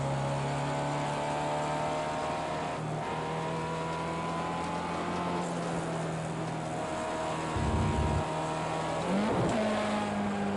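A race car engine in Project CARS 2 whines steadily as it climbs a hill, then revs sharply after a downshift near the end, loud and alone.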